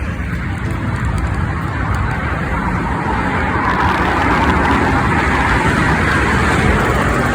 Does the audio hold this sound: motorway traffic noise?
yes